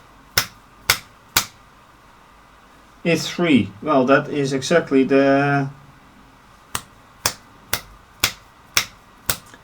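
Three quick finger snaps, then someone talks for a few seconds, followed by six more crisp, evenly spaced snaps close by in a quiet room.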